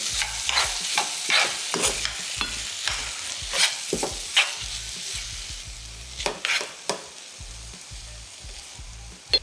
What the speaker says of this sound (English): Just give that a little stir, a little mix around.